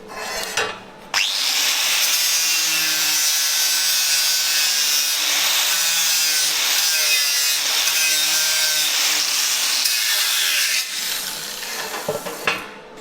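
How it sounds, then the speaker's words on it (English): Sanding down the edges of a part on a Fiat dozer with a loud, continuous abrasive whir that runs steadily for about ten seconds, with brief clunks at the start and end. "we just sanded down those edges to bring that in, make it a bit flatter, a bit nicer, close up that gap a bit"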